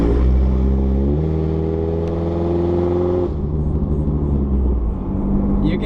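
A race car engine revs up to around 2,000 RPM, a loud, close, steady droning rumble with rising and shifting harmonic tones, dropping back slightly partway through, with no talking over it.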